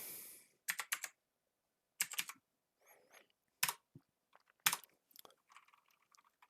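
Keys on a computer keyboard are struck in quiet, irregular bursts of close clicks and taps separated by short pauses.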